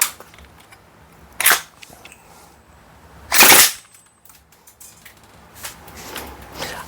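Airsoft AKMN carbine firing, with two separate sharp cracks a couple of seconds apart and softer mechanical clicks and handling noises between and after them.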